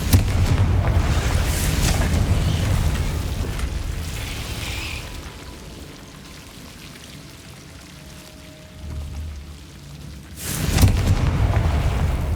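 Confringo fire spell explosion in Hogwarts Legacy, a loud rumbling blast that fades into a crackling, raining-debris tail, followed by a second booming burst near the end.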